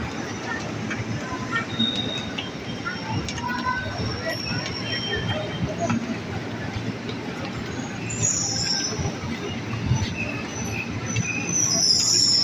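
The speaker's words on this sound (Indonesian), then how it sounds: "Nah itu KRL yang ke arah Bekasi tuh, peron 1." A KRL commuter train bound for Bekasi rolls into platform 1 at an Indonesian station, wheels squealing and rumbling steadily with high metallic screeches, amid busy platform noise and people talking.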